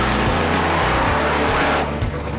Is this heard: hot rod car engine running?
yes